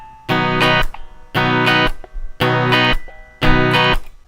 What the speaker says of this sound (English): The strumming pattern is actually a very basic reggae strumming pattern.